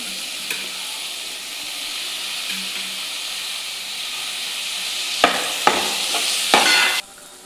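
Tomato and coriander go into spices frying in a pan for a whole masoor dish, giving a steady soft sizzle with a few louder bursts of hiss and scraping stirs near the end before it cuts off.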